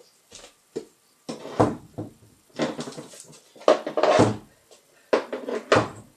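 Someone handles and adjusts a door, producing irregular knocks, creaks and clunks spread over several seconds at close range, with quiet gaps between the bursts.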